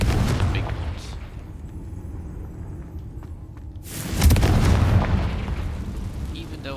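Confringo blasting spell detonating in Hogwarts Legacy, a loud booming burst that swells suddenly after a quieter stretch and rumbles on for a couple of seconds, with a voice speaking over the game audio.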